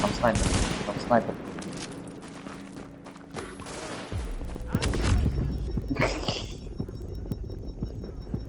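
Machine gun fire in Tom Clancy's The Division comes as loud, choppy bursts mixed with impacts and game effects. A few thumps follow, and voices are heard now and then.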